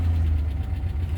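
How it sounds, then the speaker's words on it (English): Ford Bronco II engine idling after sitting unused, with a dry lifter tap; a steady low rumble with faint rapid ticking, close and constant for about a second. "Got a little bit of a lifter tap because they're a little dry."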